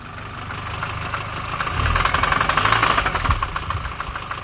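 A MINI R50 engine with a slack timing chain and hydraulic tensioner is revved, its idle rising into a louder rattling, knocking surge before settling, heard close with no talk.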